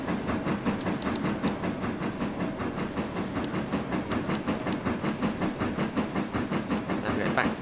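Class 08 diesel shunter working along the Scottish East Coast Main Line near Rosyth in the Trainz console game, a steady rumbling rail sound with rhythmic clicking and hiss, continuous and fairly close, no talk.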